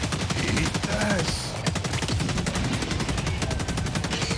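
Sustained automatic gunfire from a heavy gun in the co-op shooter Helldivers 2, loud, rapid, evenly spaced shots hammering on throughout, with a brief gap near the middle and someone talking underneath.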